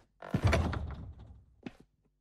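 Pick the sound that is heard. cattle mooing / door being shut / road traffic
door being shut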